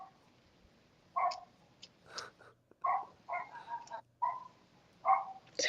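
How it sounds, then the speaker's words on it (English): A neighbour's dog barks repeatedly at a moderate distance, with short bursts spaced roughly a second apart against a quiet background. "My neighbor's dog is so annoying."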